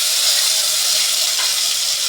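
Green chilies and curry leaves sizzle in hot oil while tempering dal in a village home kitchen, a steady loud hiss that runs without a break and with no talking.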